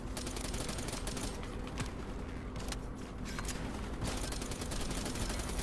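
Gunfire from the Call of Duty Black Ops 3 video game, a dense, continuous barrage of rapid shots and bursts that carries on loudly through the whole stretch with no talking.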